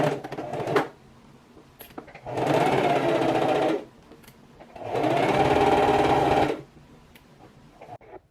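Sewing machine running a straight stitch on swimsuit shell and lining pieces: two steady whirring runs of about one and a half seconds each, close and clear, separated by quiet pauses.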